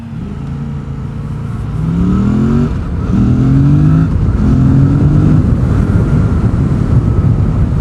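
A motorcycle accelerates hard, its engine note climbing through three rising pulls separated by quick gear-shift dips. Steady wind rush sits underneath, and the sound is close and loud.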